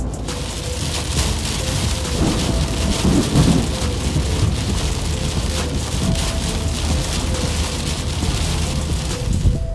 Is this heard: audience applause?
no